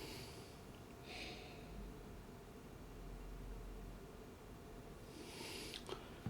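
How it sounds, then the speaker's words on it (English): Two short nasal sniffs at a glass of Three Ships 12 Year Old South African whisky, close and quiet, separated by a few seconds of soft room hiss. "Let's get a wee sniff on"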